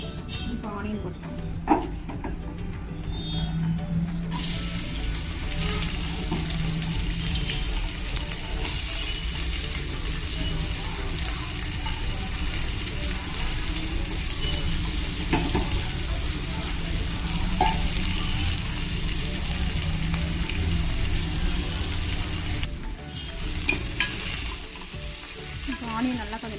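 Onions sizzle and fry steadily in a hot pan for mutton biryani, a dense continuous crackle with occasional stirring while a voice talks over it.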